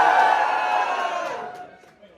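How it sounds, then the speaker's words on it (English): A comedy club audience lets out a short burst of cheering and whoops that swells at once and then fades over about two seconds. "Give me a cheer if you know what autism is."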